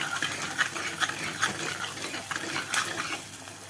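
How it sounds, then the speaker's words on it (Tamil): Chopped onion and garlic fry in a pan, with a steady hissing sizzle broken by a few sharp clinks as the mixture is stirred. "இந்த வெங்காயமும் வெள்ளைப்பூடும் நல்லா வதங்கணும்"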